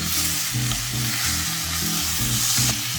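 Close, steady sizzling of mutton frying in a hot pan, with the scrape and shuffle of stirring running through it and no voices.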